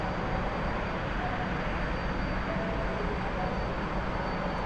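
A T-45 jet taking off in the DCS flight simulator, a steady, dense engine roar with constant broadband rush, loud and unchanging throughout.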